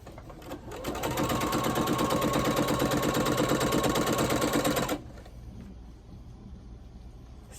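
A sewing machine stitches quilt fabric in a rapid, steady whir lasting about four seconds before it stops, leaving quiet room tone.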